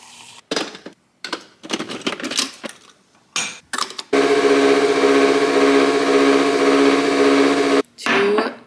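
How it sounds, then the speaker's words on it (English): Protein powder being mixed into oat milk with an electric whisk, first in short bursts and then as a steady loud whirring buzz for several seconds, close by and without any talk. "Whisk it up."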